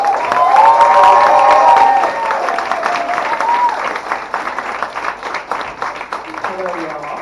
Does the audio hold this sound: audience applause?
yes